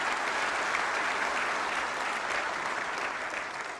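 A hall audience at a Prime Minister's birthday greeting claps in sustained, dense applause, holding steady and easing slightly toward the end.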